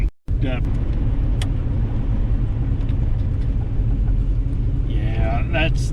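A car drives with a constant low rumble of engine and road noise close inside the cabin, while voices talk over it, and a brief whine rises near the end.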